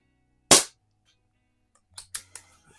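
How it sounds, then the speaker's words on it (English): Air rifle firing a Crosman Premier hollow point pellet, one sharp close crack followed by a few fainter quick ticks and clicks, with no voices. "Let's shoot another group just to the right side of that splatterburst."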